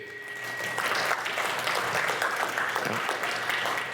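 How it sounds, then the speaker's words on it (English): Audience applause at a day-two residential real estate investing lecture, a steady, dense and loud clapping that fills the room for the full four seconds, with no break. "So can we get a round of applause for you guys for showing up for day 2?"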